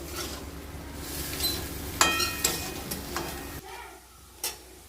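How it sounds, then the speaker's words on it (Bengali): Spice paste is stirred in a pan with boiled tarka dal, giving a low sizzle under sharp spoon scrapes and clinks against the pan that grow sparser near the end. "মশলাটা ভালো করে কষে নেব।"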